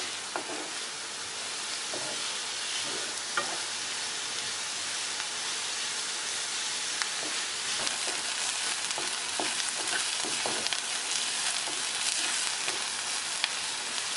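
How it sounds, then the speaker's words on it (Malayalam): Onions sauté in a pan for an egg masala, giving a steady close sizzle with scattered ticks and pops as they are stirred, continuous and even throughout with no talk. "നമുക്ക് സവാള ഒന്ന് വഴറ്റിയെടുക്കാം."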